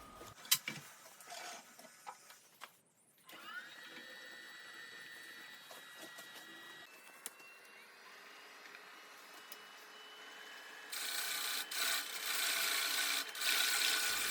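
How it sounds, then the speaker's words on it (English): A half-inch bowl gouge cuts a spinning wooden bowl on a lathe, giving a quiet scraping, rasping hiss with a brief pause, then steadier cutting that turns louder and brighter near the end. "I'm just doing all these cuts with a 1/2-inch bowl gouge again."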